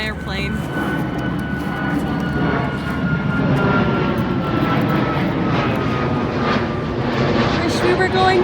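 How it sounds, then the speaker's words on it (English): An airplane flying overhead outside an IKEA store, a loud continuous engine roar that swells steadily while people talk nearby. "There's an airplane."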